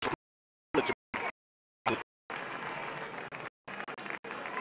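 A Mexican crowd at an under-19 rugby tournament applauds a try, a broad patter of clapping that starts after a few short bursts and gaps, then keeps going in uneven waves at moderate distance.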